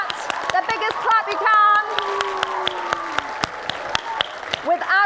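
An audience claps steadily at a book award ceremony, with dense, continuous applause throughout. A voice speaks over the clapping partway through.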